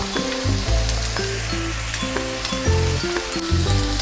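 Onions and capsicum sizzle in a frying pan for spicy pasta noodles: a steady, close frying hiss throughout, with tonal background music playing over it.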